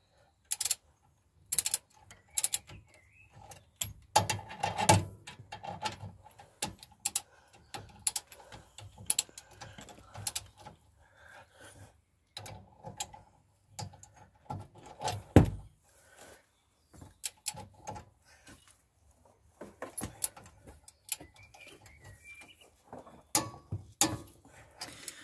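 Metallic clicks, taps and ratcheting as bolts are fitted to secure the front brake caliper carrier on a Rover 45, sparse and intermittent handling noises in a quiet workshop.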